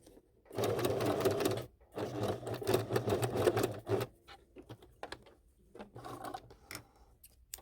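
Sewing machine stitching a skirt seam, running in two steady, continuous bursts of rapid mechanical whirring, then a stretch of lighter, intermittent clicks and short runs.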